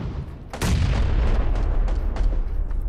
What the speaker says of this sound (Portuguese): Nossa, granada!